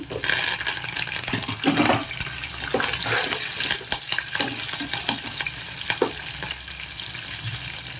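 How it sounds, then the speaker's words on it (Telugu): Mustard, fenugreek and cumin seeds with curry leaves fry in hot oil for bitter gourd pulusu, giving a steady close sizzle broken by scattered clicks and stirring scrapes, with no talk. "ఈ ఆవాలు, మెంతులు, జీలకర్ర వేగిపోయాక కొంచెం కరివేపాకు వేసేద్దాం"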